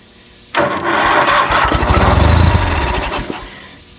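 A Kohler 20HP Magnum lawnmower engine on choke cranks and catches suddenly, then runs loud and close with a rough, uneven idle for nearly three seconds before cutting out.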